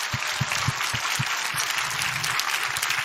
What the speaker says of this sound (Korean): 유튜브 들어온 사람 위해서 박수 한번 쳐요